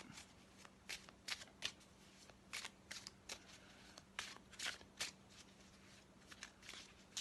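Tarot cards being shuffled in quick riffling bursts, crisp papery flutters repeating at close range over a faint steady hum.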